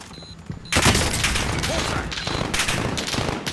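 Loud, dense volley of gunfire from Call of Duty Modern Warfare, erupting suddenly after a quiet moment and continuing as a steady rattling barrage of overlapping shots.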